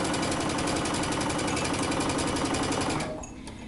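A sewing machine stitches a dress side seam at 5/8-inch allowance, running as a fast steady mechanical whir close by, then slowing and stopping near the end.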